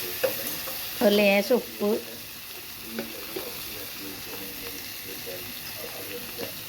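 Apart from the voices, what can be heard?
frying tomatoes with garlic, curry leaves and green chillies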